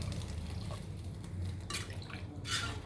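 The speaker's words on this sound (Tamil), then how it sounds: "அதுக்கு தகுந்த மாதிரி நான் தண்ணி ஊற்றுறேன்." Water poured from a vessel into a cooking pot for tomato rice, a soft, steady trickle with a couple of brief splashy bursts, fairly quiet, with no talk.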